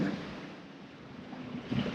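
Wind rushes steadily with a low roar and rumble, swelling toward the end, over distant open-water noise, heard aboard a sailboat at sea.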